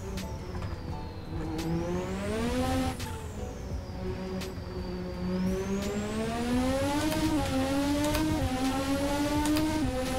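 A race car in a Monaco racing video game: a high, loud engine whine revving up and down continuously as the throttle is fed in and lifted through corners, with no voices over it.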